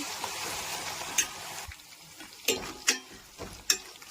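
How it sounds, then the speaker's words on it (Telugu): Green chillies and curry leaves fry in hot oil for a tamarind rice tempering, a soft steady sizzle with a few sharp spoon clinks against the pan, close and quiet. "ఇవన్నీ బాగా ఫ్రై చేసుకోవాలి."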